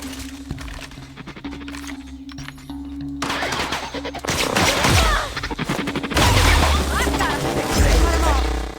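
In The Outer Worlds on Switch, loud gunfire and crashing impacts build up in the second half after a quieter stretch. The shots come in dense, rapid bursts mixed with in-game voices.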